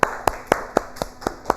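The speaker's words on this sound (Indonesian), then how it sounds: "Beri tepuk tangan buat Meli." Classroom clapping for a student comes as about seven evenly spaced, crisp claps in a steady rhythm, close and fairly loud, with no talking.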